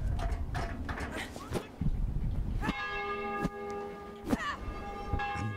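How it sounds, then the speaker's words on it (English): A church bell in the game Valiant Hearts: Coming Home rings out in several distinct, resonant strikes with long, humming decays, preceded by softer clattering and clip-clop-like knocks. "She needs to ring the bell."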